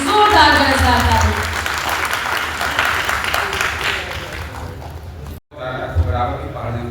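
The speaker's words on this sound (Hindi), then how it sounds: "पुनः इनके सम्मान में जोरदार गरजदार ताली।" Loud applause honouring a fearless journalist and founder of the Kilkari organisation at a felicitation event held by Prayas-Ekta Manch, a steady dense wash of clapping with a voice speaking over it and a brief dip near the end.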